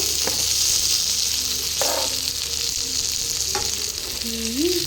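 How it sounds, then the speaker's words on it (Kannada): Semolina-coated fish fries in a pan, a loud dense sizzle that stays constant throughout, close up, with a few faint clinks and scrapes of stirring and no talk. "ನೋಡಿ ಫ್ರೆಂಡ್ಸ್, ಈ ಥರ ಫ್ರೈ ಮಾಡ್ಕೋಬೇಕು."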